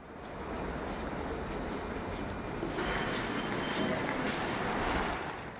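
A Seoul subway Line 2 train at Gangbyeon station rushes past as a dense, loud roar of wheels and air that swells midway and stays broad and continuous before tapering off, with no speech.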